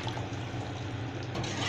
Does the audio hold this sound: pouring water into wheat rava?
yes